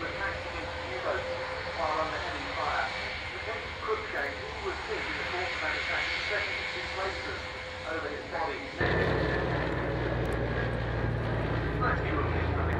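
A Catalina aircraft makes a final pass downwind to land, its propeller engine drone steady and building, with a voice speaking over it in the first part.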